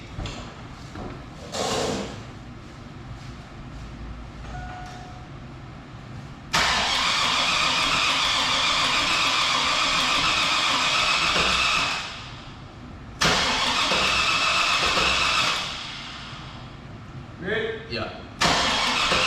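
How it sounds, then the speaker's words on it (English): A car engine cranks over with its coil packs disconnected so it cannot fire. It gives two long, steady cranking bursts, each several seconds long, with quieter pauses between them. "we're about to go ahead and get a nice crank over, get the damn engine primed up"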